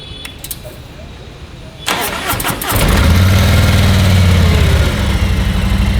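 An 1800cc Harley V-twin motorcycle engine cranks and catches with a loud burst, then settles into a steady, deep idle close by.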